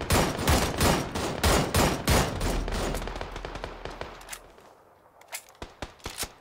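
Gunfire in a shooter video game: loud, rapid bursts of shots crack out in a dense volley for several seconds, then thin out into a few sparse, separate shots.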